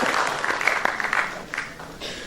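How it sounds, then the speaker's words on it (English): An audience at an academic ceremony claps in a dense, steady round of applause, moderately loud and a little distant, with no voices over it. "a round of applause for all of you together"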